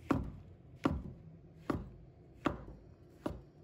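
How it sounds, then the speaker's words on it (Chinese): A knife chops washed shiitake mushroom slices into small dice on a cutting board, with five evenly spaced, solid thuds about a second apart, close and clear with no talking. "然后切成香菇丁。"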